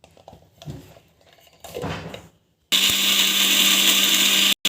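A kitchen mixer grinder whirs loudly as it grinds homemade protein powder ingredients, a steady high roar starting partway through after quieter handling noises, cutting off briefly near the end.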